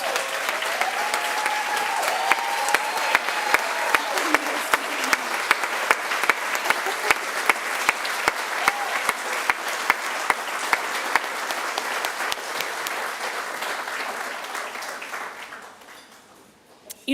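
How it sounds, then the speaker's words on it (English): At a hockey association auction gathering, a standing audience gives a long round of applause, full and continuous with a few sharper claps on top, then fading away near the end. "I'd actually like to ask each of you to stand for another round of applause"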